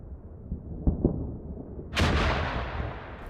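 Artillery rounds land in the Combat Mission war game: a couple of dull, distant thumps, then a loud, close blast at about two seconds whose rumble rolls on and fades slowly. No one speaks.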